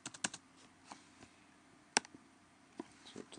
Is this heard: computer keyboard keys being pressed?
yes